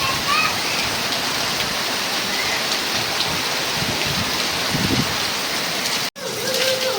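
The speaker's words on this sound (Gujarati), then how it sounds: "એટલો વરસાદ અહીંયા ફૂલ આવી ગયો છે અત્યારે." Heavy monsoon rain pours down in Umrala, a loud, unbroken roar of water close by that runs for several seconds before a brief cut. No speech is heard over it.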